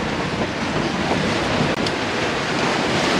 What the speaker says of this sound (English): Got some good sized waves following us.